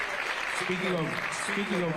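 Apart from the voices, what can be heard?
audience applause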